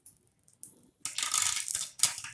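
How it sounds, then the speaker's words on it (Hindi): Popcorn pops inside a closed pressure cooker over high flame: a few faint, scattered pops, then a dense, loud burst of rattling kernels, alone with no voices. "आप पॉपकॉर्न फूटने की आवाज सुन सकते हैं कुकर के अंदर"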